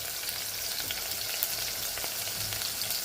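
Seven or eight garlic cloves fry in hot oil in a pan, a steady, dense sizzle and crackle that runs evenly throughout with no voices.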